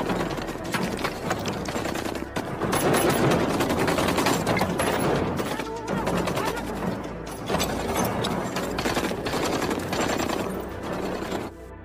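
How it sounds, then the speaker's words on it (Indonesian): Guards firing a hail of bullets at men hiding in the desert, dense overlapping gunfire and impacts filling the scene continuously, loud and chaotic, with background music mixed in. "posisi mereka pun segera diketahui oleh para pengawal yang langsung menghujani mereka dengan peluru."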